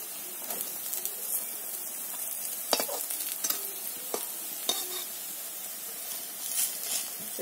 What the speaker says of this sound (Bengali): আমার বড়াগুলো ভাজা হয়ে গেছে।